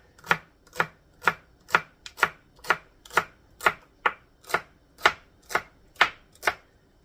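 A knife chops a vegetable finely on a cutting board for summer vegetable soup, about fourteen crisp, evenly spaced strokes in a steady rhythm, close and clear with nothing else heard.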